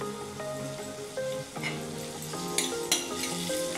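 Ginger garlic paste with a little turmeric frying in a pan for chicken liver fry, a steady close sizzle with soft stirring scrapes and a couple of sharper clinks near the end, no talking.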